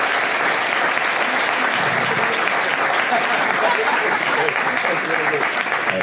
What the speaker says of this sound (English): I would like everyone to please give a big round of applause for the thoughts